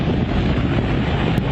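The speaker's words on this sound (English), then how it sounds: "We're just starting to get into the eye wall of this thing now, and you get these occasional gusts, big time." Strong hurricane wind gusts roar during Hurricane Ian's landfall at the eyewall, a loud continuous broadband rush buffeting the microphone with no voices heard.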